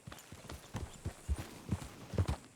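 A horse in the Red Dead game clops along at a walking pace, the hoofbeats soft and fairly faint, uneven and close together over a low background rumble.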